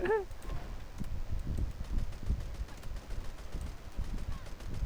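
Gunfire in a tank video game comes as a steady stream of low, muffled thuds, with a voice heard briefly at the start.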